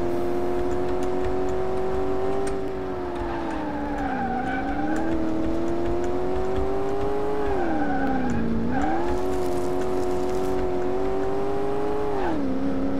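American muscle V8 engine on a lap in Car Mechanic Simulator 2018, a steady droning roar that rises and dips with throttle through corners, loud and close with faint tire squeal and no talk.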